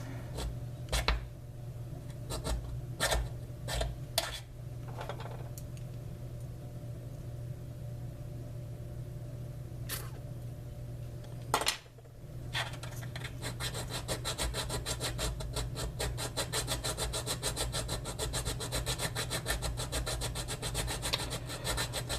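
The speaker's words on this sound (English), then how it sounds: "I guess we're gonna have to go with the round file." Round file rasping at a box mod enclosure, a quiet close-up scraping that starts with a few isolated strokes and short pauses, then becomes a steady, rapid back-and-forth filing rhythm.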